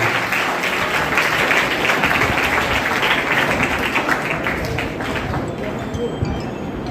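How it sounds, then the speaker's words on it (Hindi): Children clapping loudly at an award ceremony, a thick continuous burst of applause that holds steady throughout, close and energetic. "मैं चाहता हूँ कि बच्चे उन तमाम लोगों के लिए जोरदार ताली बजाएं"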